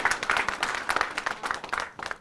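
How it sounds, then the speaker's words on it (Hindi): An event audience claps for the behind-the-scenes staff at a channel's third-anniversary celebration, a dense, steady patter of many hands over a couple of seconds with a faint voice underneath. "तो इनके लिए आप जरूर ताली बजाइए, इतनी कस के बजाइए कि इनका मोटिवेशन और बढ़े"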